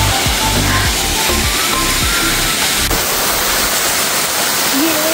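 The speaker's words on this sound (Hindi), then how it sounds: "ये रहा वाटरफॉल" A hidden waterfall in the Kullu mountains beside a temple roars in a constant loud rush of falling water, steady and close, with low rumbling and wind, and no clear talk over it.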